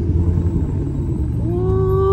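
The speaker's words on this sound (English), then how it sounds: "I can feel it like literally grinding as I stop." Worn brakes on a C7 Corvette grinding as the car rolls to a stop, a steady low rumbling scrape that rises into a drawn-out tonal squeal near the end, heard up close with no talking.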